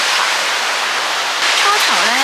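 A waterfall in western Iceland roars as a steady, loud broadband rush, close and unbroken, while a voice talks faintly beneath the water noise toward the end.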